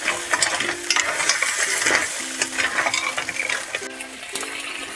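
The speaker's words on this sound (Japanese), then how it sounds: "水気を切ったムール貝を加えて30秒ほど炒めます" Drained mussels are stir-fried in a pot over medium to high heat, giving a continuous crackling sizzle with scraping stirring strokes throughout, up close and with no talking.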